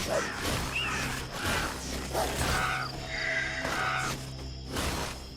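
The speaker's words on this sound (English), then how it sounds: "That's a lot of crows." A flock of crows caws repeatedly in the action role-playing game Titan Quest: Anniversary Edition, harsh calls overlapping at medium distance over a steady low ambient drone and scattered game effects.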